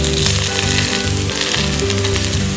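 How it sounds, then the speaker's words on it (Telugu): Gunta ponganalu batter frying in a dimpled pan over low heat, a loud, steady close sizzle with a continuous crackle, no speech. "అందుకే సిమ్లో పెట్టుకొని వేయించుకోండి బాగా"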